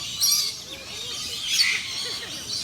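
Birds call at a large bird park where a parrot is being fed, with shrill chirps and squawks rising in two bursts over a soft background murmur, fairly close.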